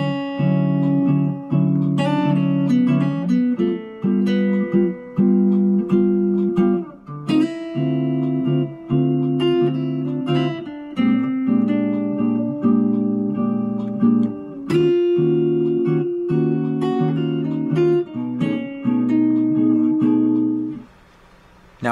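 Guitar plays the bridge melody of a song, a clean single-note jazz line with repeated phrases and brief pauses between them, solo with no voice.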